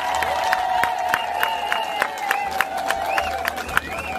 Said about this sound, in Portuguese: Uma salva de palmas para o presidente Rio